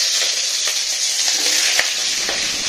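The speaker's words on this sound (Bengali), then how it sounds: "আগে ফুলকপিটা ভালো করে একটু ভেজে নিই" Cauliflower fries in a pan with a bright, constant sizzle, broken by soft stirring scrapes and a few small pops, close and clear with no voices.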